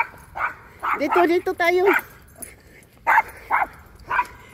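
A dog barks in a parking garage, sharp close yips and barks with echoing bursts, mixed with a person speaking between them.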